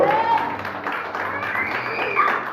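A church congregation claps together during a Spanish-language service, steady crowded applause mixed with voices and tonal sounds above it.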